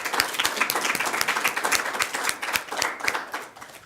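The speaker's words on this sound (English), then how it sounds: "I think we should begin with a hearty round of applause" Audience applause ringing out after a university communication studies debate final, dense steady clapping from a crowd of many hands, loud and sustained before tapering slightly near the end.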